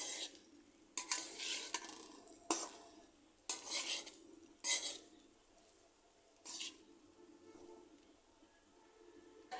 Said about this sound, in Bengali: এর মধ্যে মরিচের গুঁড়োগুলো দিয়ে দিলাম আবার ভালো করে মিশিয়ে নিচ্ছি